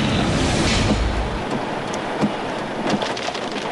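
Heavy rain during a storm near the SCTEX expressway, a loud continuous roar of water with a low rumble at first, then a steady downpour with occasional heavier splashes.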